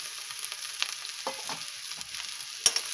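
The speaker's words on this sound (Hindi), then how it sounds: "और अब हम इसे थोड़ी देर भून लेंगे।" Sliced okra frying in a pan with turmeric, a soft steady sizzle with scattered scraping stir strokes and occasional louder clatters, close and alone without talk.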